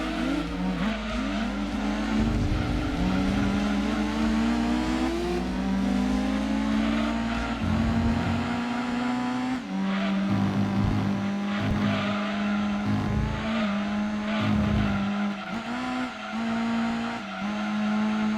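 Tuned race cars in Gran Turismo 2 on PS1 roar continuously, engines revving up and shifting through gears with steady pitch climbs and drops, tires squealing at times, loud and close with no talking.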